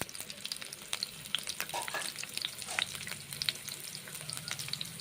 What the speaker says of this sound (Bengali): কালো জিরে ফোড়ন দিচ্ছি আর রসুন দিচ্ছি।